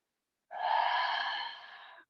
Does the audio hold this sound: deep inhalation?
yes